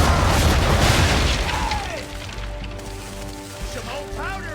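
Ship cannons firing in broadside during a naval battle in Assassin's Creed III, heavy booming blasts at the start that fade into a rumbling aftermath and music, with a faint voice beneath.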